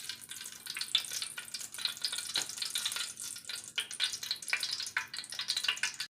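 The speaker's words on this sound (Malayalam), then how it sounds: "കുറച്ച് വെളിച്ചെണ്ണ ഒഴിച്ച് കൊടുക്കാം." Coconut oil heats in a pan on the stove for a ginger curry, giving a soft continuous sizzle with light crackling pops, faint and close, with no talk.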